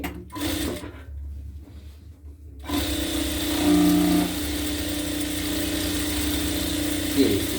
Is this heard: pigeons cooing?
no